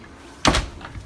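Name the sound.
door being closed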